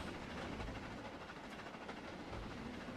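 A steam locomotive runs in the train simulator game Trainz, giving a steady, fairly quiet rolling rumble and rail clatter with no talk over it.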